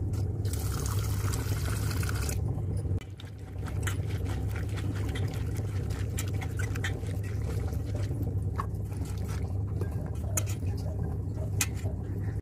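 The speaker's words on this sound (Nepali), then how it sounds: "यसलाई दुई तिन पानी मजाले पखाल्नुपर्छ।" Fiddlehead fern shoots rinsed in water, a steady pouring and sloshing wash with splashes and trickles continuing close by, a short pause partway, no talking.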